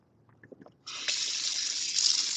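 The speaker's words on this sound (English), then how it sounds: "I'm actually gonna add a little more water to it because it's a little firm." A kitchen tap starts running after a few soft clinks, a steady close stream of water pouring out to thin firm cooking rice, continuing loud to the end with no talk.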